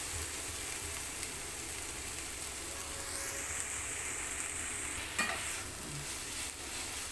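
Ingredients sauté and sizzle in a pan while a Tamil cook prepares kuruma to serve with puri. A soft, steady frying hiss continues throughout, with a brief clink of a utensil near the end.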